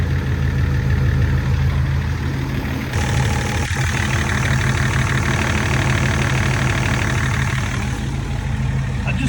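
A wrecked BMW E39 Touring wagon under rebuild idles steadily after starting, a loud close engine drone with even low rumble and a slight shift in tone partway through, no talking.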